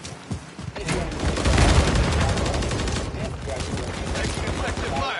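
Dense video-game gunfire, with rapid overlapping shots and booms forming a loud, continuous fusillade throughout, mixed with speech-like voices.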